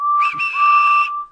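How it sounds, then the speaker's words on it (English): A railway guard blows a whistle in one loud, close, sustained blast lasting just over a second, shrill and steady with a slight warble near the start. "The guard blew his whistle"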